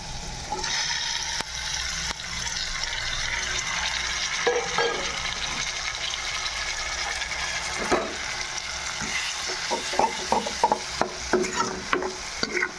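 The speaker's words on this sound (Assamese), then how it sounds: "এয়া চাওক মই বেঙেনাখিনি অকণমান ভাজিলোঁ, ভজা হৈছে" Roasted eggplant being stirred and fried in a pan on a gas stove, with a steady close sizzle and repeated scraping stir strokes that grow sharper and more frequent toward the end, with no talking.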